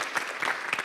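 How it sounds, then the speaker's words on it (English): Audience at a 2018 Ohio gubernatorial debate in Marietta breaks into a brief, dense burst of clapping that fills the moment with no voice over it. "I know it's fun to clap, but if we can hold the applause until the very end"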